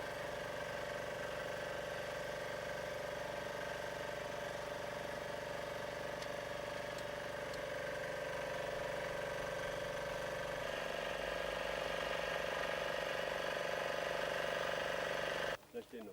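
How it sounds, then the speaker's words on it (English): An extrusion welder runs steadily during a plastic pipe repair, a constant mechanical drone with a motor hum, fairly loud and unbroken, shifting slightly lower near the end before cutting off abruptly. "The extruded material is finally drawn from the extrusion welder and pressed onto the damaged area."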